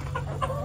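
A hen on a farm gives a couple of soft, short clucks over a steady low hum, fairly close and quiet.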